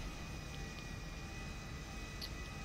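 An airplane engine in GTA V drones as a steady, even roar with a faint high whine, unchanging and with no voices.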